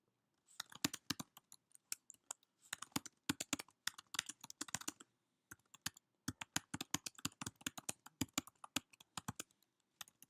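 Typing on a computer keyboard in bursts of rapid clicking keystrokes, three clusters separated by short pauses, close and fairly quiet with no voices.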